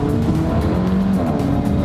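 Alfa Romeo 4C with a small 4-cylinder engine, heard from inside the lightly insulated cabin while driving: a loud, steady engine drone with shifting tones and some tire noise.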